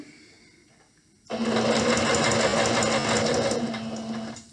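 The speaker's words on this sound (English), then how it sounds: "I'm going to go ahead and go straight." Sewing machine running a straight seam on a pillowcase, starting abruptly after a quiet moment, then a loud, steady, rapid stitching drone that continues to the end.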